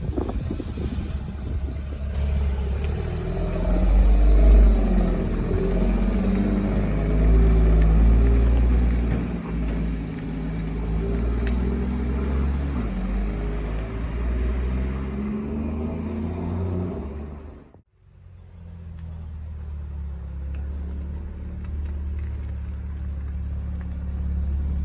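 A Porsche Boxster GTS out on a test drive, its engine droning and rising through gears with loud surges, a brief drop to near silence, then settling into a steadier cruising hum.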